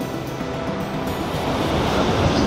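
Waterfall at the outflow of Lake Taupo roars as a steady, broad rush of water, loud and continuous with wind buffeting, swelling slightly toward the end, with no voices heard.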